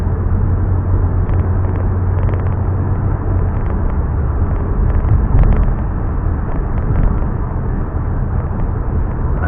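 A 2009 Chevrolet Malibu on a test drive after a wheel bearing replacement gives a continuous low road and engine rumble from inside the car, steady and fairly loud, with faint clicks.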